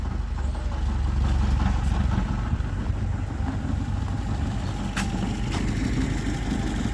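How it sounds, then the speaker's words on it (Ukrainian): A VAZ 2104 engine running on three cylinders idles steadily with a rough, uneven low rumble, loud and continuous throughout with no talking. "Коли троєчний мотор."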